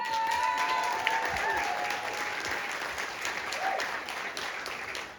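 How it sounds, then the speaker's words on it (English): Wedding guests give the maid of honor a big round of applause at the reception, sustained clapping from a room full of people with a few faint voices and tones underneath. "Big round of applause for her."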